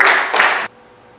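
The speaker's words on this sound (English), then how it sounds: "Give a applause for us" A classroom of students gives a short burst of applause, two quick swells of clapping close by that stop sharply, leaving near silence.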